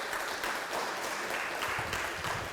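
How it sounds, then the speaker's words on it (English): Audience applause welcoming a professor onto the stage at a university research symposium, a steady wash of clapping that holds evenly for a couple of seconds at moderate distance. "please join me in welcoming Professor Rijurekha with a big round of applause"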